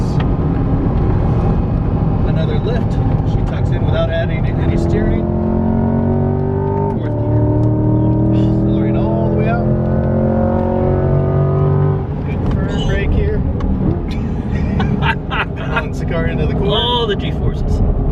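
A Chevrolet C8 Corvette driven hard on a race track, its engine loud and close from the cabin, rising through the revs in repeated climbs, shifting and dropping off between corners, with someone talking over it.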